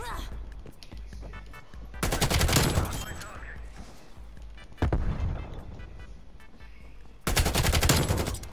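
Loud bursts of automatic gunfire from Call of Duty Cold War erupt in three sustained volleys, close and heavy, with a voice talking over the quieter game sound between them.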